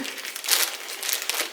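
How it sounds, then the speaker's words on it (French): Plastic bag crinkling and tearing during a diamond painting kit unboxing, a close, continuous rustle with a sharper rip partway through and no voice. "Oh, j'ai brisé le sac."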